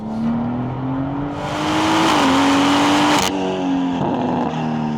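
A tuned 600 hp BMW M140i F20, rear-wheel drive with Stage 3 tuning, accelerates hard. The loud, rising engine drone is heard from inside the car and climbs steadily through gears, with a brief dip at a shift.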